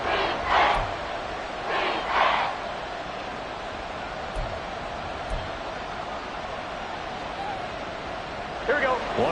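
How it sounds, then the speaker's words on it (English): Football stadium crowd roaring as the game builds to a big third down: a broad wash of massed voices, swelling in a few loud cheering surges near the start and again at the end, distant and continuous. "the crowd getting into it as we come up on a big 3rd down"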